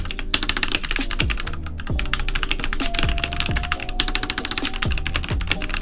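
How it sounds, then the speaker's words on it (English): Typing on a Keychron C2 full-size mechanical keyboard, a close, loud run of crisp key clacks in an uneven rhythm, with occasional heavier thocks from bigger keys, heard alone without talk. "So you can see I'm starting to type, right?"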